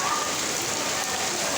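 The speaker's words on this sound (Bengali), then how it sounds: "হঠাৎ মুষলধারে বৃষ্টি নামলো ভিউয়ার্স" Sudden heavy evening downpour, a dense steady hiss of rain drumming on surfaces, loud and continuous throughout with no break.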